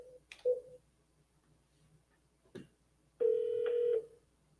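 A telephone call being placed: a few short dialing beeps, a click, then a steady electronic ring tone lasting under a second, alone and close.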